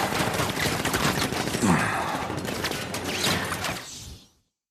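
Automated sentry guns in a Batman video game open fire in a dense, loud burst of rapid gunfire with a brief whoosh, sustained for about four seconds before cutting off abruptly.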